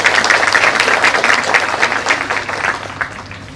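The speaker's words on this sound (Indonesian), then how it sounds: "Tepuk tangan sekali." Loud, dense applause from an evening audience at a talk, steady clapping that fills the whole stretch and eases slightly toward the end.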